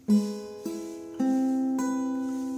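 Guitar notes plucked one after another, each ringing on as the next enters, building a slow fingerpicked chord pattern from a rock song, with no voices.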